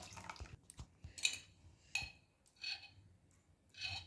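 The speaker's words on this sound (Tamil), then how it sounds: "மிக்சி அலம்பி இதில் ஊற்றிக்கலாம்" Rinse water from a mixer jar is poured into batter for nut kozhukattai, landing in several short, close splashes and drips separated by brief pauses, with faint clinks of the jar.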